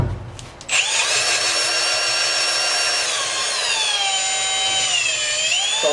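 A piloted cutter trims the tops of thin-wall valve guides in a V8 cylinder head, a steady loud whirring power-tool cut with shifting high tones that runs continuously after a short start.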